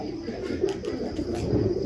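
Pet pigeons cooing close by at night under lights, a low continuous throaty murmur with soft overlapping calls.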